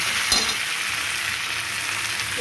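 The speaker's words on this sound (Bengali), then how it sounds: "এবার আমি দিয়ে দেবো জল।" Water hits spiced boal fish masala frying with potatoes in a hot pan, giving a loud, close, steady hiss and sizzle throughout, with a brief splash and crackle near the start.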